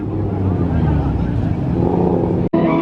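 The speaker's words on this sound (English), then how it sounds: "these boys are sliding with the lights off and brake all the way over here" Cars slide at a crowded street car meet at night with the lights off, a loud, steady engine roar with rising and falling tone, cut by a brief sharp break near the end.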